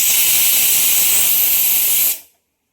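A pressure cooker on a high gas flame lets out one loud, steady hissing steam whistle that holds strong for about two seconds, then cuts off abruptly into silence.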